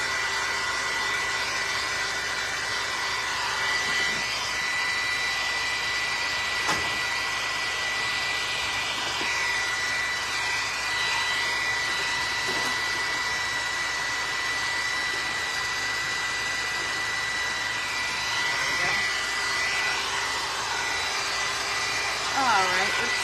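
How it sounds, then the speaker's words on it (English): Electric sander running steadily on a DIY Halloween skull book project, a continuous loud whirring drone that holds for the whole stretch with slight rises and dips. "I'm gonna need my sander."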